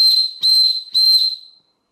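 A Nitecore whistle gives three hard, piercing shrill blasts in quick succession, loud and close, the last one trailing off into silence.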